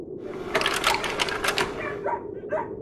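Sled dogs of the kind that hauled sledges across the Antarctic on a polar expedition bark in a rapid flurry of overlapping yaps, then give a few separate barks near the end, fairly close and loud.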